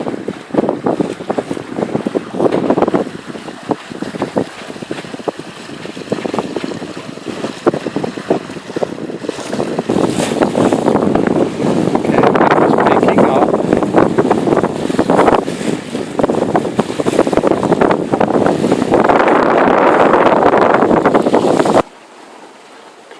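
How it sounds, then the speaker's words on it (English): Wind picking up while sailing a sailboat under both sails off the coast of Turkey, loud steady wind buffeting the microphone with rushing water and hull noise throughout, cutting off abruptly near the end. "The wind picks up."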